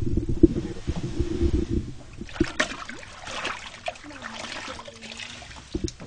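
A liquid binder is poured into sieved powder for an eco charcoal mix, giving soft trickling and splashing with scattered knocks over low rumble, fairly close and moderately loud, with no talk.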